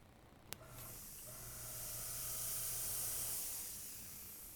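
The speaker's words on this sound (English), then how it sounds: "something on the airbrush is starting to clog" An airbrush partly clogged while painting a colored-pencil background hisses steadily and softly, with a sharp spit near the start and the spray swelling and fading.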